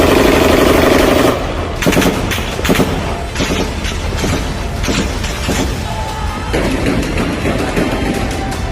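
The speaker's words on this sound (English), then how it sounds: "heavy gunfire started." Dense bursts of heavy gunfire crackle continuously, loud and close, with rapid overlapping shots and booms throughout.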